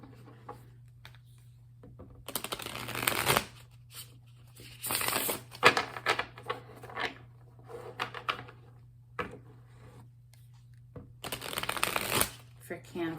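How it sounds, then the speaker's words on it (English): Bursts of a new Light Seers Tarot deck being shuffled, crisp riffling card noise in several close, uneven spells separated by pauses, over a steady low hum. "So I'm using a brand new deck. This is the Light Seers Tarot."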